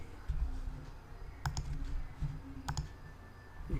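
Sparse computer mouse clicks and a few keyboard keystrokes at a desk, a couple of sharp double clicks standing out against a quiet background hum, close but soft, with no talking.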